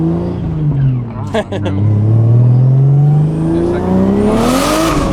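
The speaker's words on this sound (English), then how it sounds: "it just blows the tires right off" A 600 whp car accelerates hard and spins its tires, giving a loud, rising engine roar with a brief gear-change dip near the start, heard from inside with excited voices talking over it.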